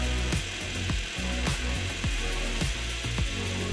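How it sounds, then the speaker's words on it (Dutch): Power drill boring into a concrete wall, a steady loud grinding drone with repeated rhythmic jolts and clicks as the bit bites, continuous throughout with no talking. "Boren in beton gaat heel wat minder vlot."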